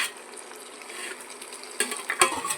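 Tomatoes sauté with dried fish for a village-style kuchi karuvadu thokku, giving a soft, steady sizzle. Near the end, a spatula stirs and scrapes against the pan in a few sharp clinks. No voices.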